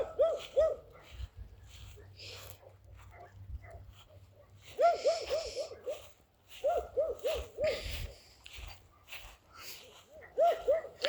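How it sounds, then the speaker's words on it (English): A dog barking outdoors at night on a residential street lit by street lights, with repeated bursts of hoarse, hooting barks at moderate distance, separated by pauses, over faint background noise. "I'm gonna show it because the dog's barking."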